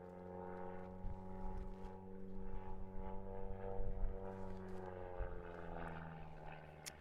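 A propeller-driven aerobatic plane flies a stall turn at a national championship, its engine drone heard from a distance as a steady hum that swells and fades slightly over several seconds.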